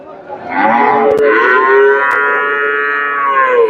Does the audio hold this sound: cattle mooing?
yes